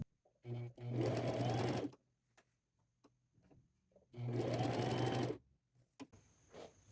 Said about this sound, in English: I'm going to sew it together with a 1/4 inch seam allowance.